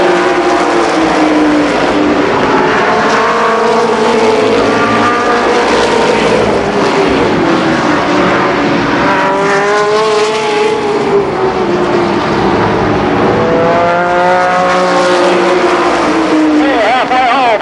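Race cars at Columbus Motor Speedway roar around the oval in a 1990 main event, their engine notes rising and falling as they pass, loud and continuous, while an announcer talks over the field.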